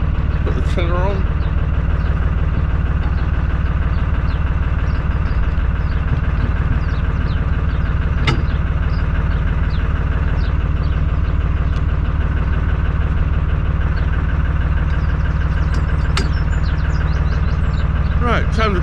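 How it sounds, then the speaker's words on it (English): A canal narrowboat's engine idles steadily just after starting, a constant low throb running throughout, with someone talking over it and a few faint clanks. "That's all the engine checks done. Engine started."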